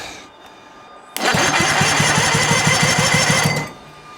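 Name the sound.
sailboat engine cranking over via bridged starter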